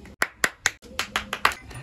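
Seven sharp hand claps ring out close and clear in a quick, fairly even rhythm at a village gathering, each one a crisp slap with a short decay and no speech.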